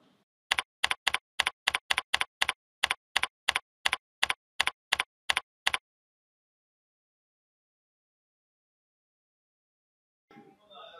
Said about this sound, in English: Now press Ctrl F on your keyboard to find type 4 in the document.